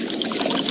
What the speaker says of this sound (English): Listen to that cascading liquid.